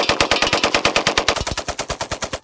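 AK-47 firing a rapid automatic burst, loud sharp shots in a fast even rhythm close by, continuing for over two seconds with no voices.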